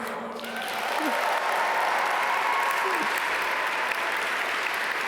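A graduation audience at the Duke MBA Daytime and Accelerated MBA ceremony breaks into steady, sustained applause that fills the hall, loud and continuous for several seconds, with a few faint voices underneath.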